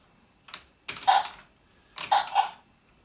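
Computer keyboard keys on an Amstrad are tapped during a game of Kung Fu Master, in two quick clusters of clacky presses separated by a pause, close and fairly quiet with no talk.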